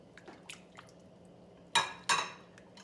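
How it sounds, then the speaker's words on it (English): Thick canned cream of chicken soup drops into a pot of chicken chili with two soft, wet plops and scrapes after some faint kitchen clatter, quiet and close. "Then I'm going to add in a can of cream of chicken soup."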